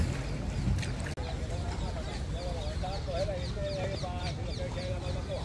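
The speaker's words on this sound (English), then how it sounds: "only a few ducks that are relaxing, maybe sleeping, so do not disturb" Ducks quack in short repeated calls on the water of the canal at Plaza de España in Seville, heard at moderate distance over a steady outdoor background with faint voices of people nearby.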